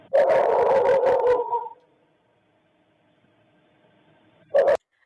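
A recorded dog barks in a rapid burst of several loud barks. After a quiet gap, one more short bark follows.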